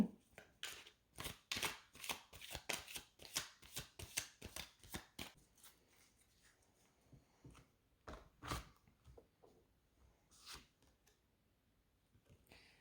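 Tarot cards being shuffled for a reading, a quick run of riffling, flapping bursts for about six seconds, then a few slower isolated shuffles, fairly faint and close with no talking.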